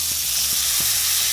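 A burger patty cooking in a hot pan gives a loud, continuous, hissing sizzle, with a few soft low knocks beneath it.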